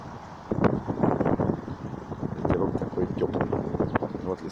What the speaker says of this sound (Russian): Ветерок небольшой, но ветерок такой...